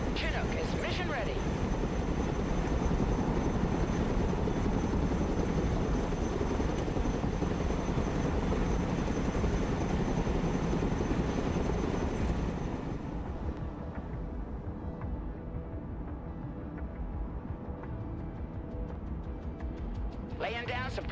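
A Chinook helicopter in a combat video game thunders with a dense, steady rotor and engine roar that lasts throughout, easing slightly toward the end while other game sounds mix in.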